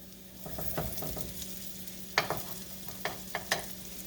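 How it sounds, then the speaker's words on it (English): Mashed potato patties, made from leftover mashed potatoes, fry in a pan with a steady close sizzle, broken by a few sharp clicks and scrapes of a utensil near the end. "I'm going to let these cook"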